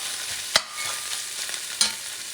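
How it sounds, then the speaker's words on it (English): Kabsa base for red camel kabsa stirred and fried in a pot until dark, giving a steady close sizzle broken by two sharp scraping stirs. "you're going to mix it up. And cook it until it turns dark"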